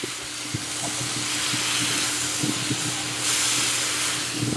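Broccoli goes into a hot pot of beef lo mein, giving a steady, loud broadband sizzle and hiss with a few soft clicks of stirring, with no talk.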